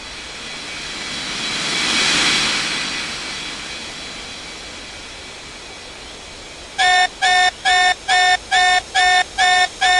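An airliner taking off at Springbrook International Airport in the Unmatched Air Traffic Control game, a jet roar swelling to a peak and fading, then a loud regular series of beeping tones near the end.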